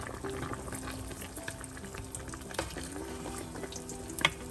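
Mutton chops biryani mixture boiling in a pot, a steady close bubbling and simmering hiss with a few soft pops and a brief louder clatter near the end.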